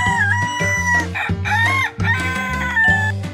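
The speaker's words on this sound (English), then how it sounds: "Rooster." A loud, close rooster crowing, several drawn-out cock-a-doodle-doo calls in quick succession with some clucking mixed in.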